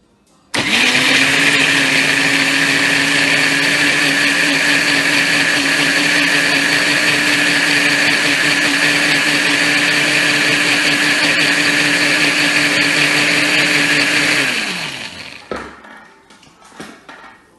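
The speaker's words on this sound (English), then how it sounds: "So now we're going to blend it. Cover it and blend." Kitchen blender running steadily for about fourteen seconds as it purées egusi melon soup ingredients, a loud continuous whirring motor drone that then winds down and stops.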